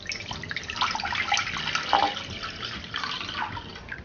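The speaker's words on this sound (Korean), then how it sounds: "물 600ml 정도 먼저 부어주세요" Water from a tap poured into a pot as the base for kimchi cheonggukjang, a steady close splashing flow that runs for about four seconds with no talk.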